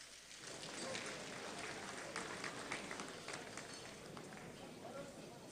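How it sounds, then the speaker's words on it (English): Audience applause at a presidential gala night in Nigeria, a sustained roomy ovation of many hands with crowd murmur, filling the hall at steady strength. "Give yourselves a warm round of applause."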